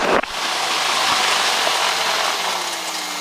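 A Cessna Skylane engine at idle throttle drones steadily inside the cockpit, a broad continuous rushing hum after a brief click at the start, with no speech over it.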